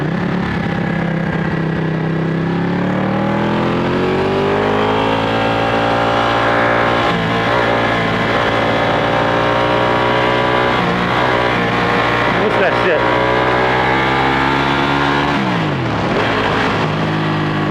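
A Ducati 1199 Panigale sport motorcycle engine revs continuously up close, its pitch rising and falling as the throttle is worked, loud and steady throughout.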